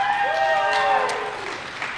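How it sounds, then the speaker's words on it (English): Applause from an audience at a live Seed To Table event in Naples, a short, moderately loud patter of clapping with a chime-like tone sliding down at the start and the crowd noise tapering off toward the end. "you can applaud that."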